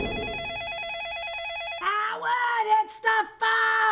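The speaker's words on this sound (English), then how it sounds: "I hear the phone!" A telephone rings in a sitcom apartment scene, its electronic ringing tone steady and fairly loud for nearly two seconds before a voice shouts over it.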